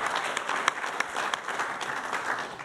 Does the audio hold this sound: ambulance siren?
no